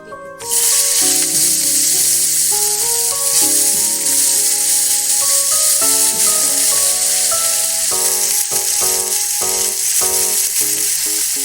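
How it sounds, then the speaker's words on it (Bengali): Potatoes drop into hot oil in a home kitchen pan and set off a sudden, loud, continuous sizzle that persists throughout, with background music playing underneath. "আমি আলুগুলো দিয়ে দিচ্ছি।"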